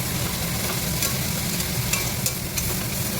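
Fish curry with five pieces of fish bubbling in a spicy gravy in a pan, giving a steady close sizzle and simmer with soft scraping from stirring throughout, no voices.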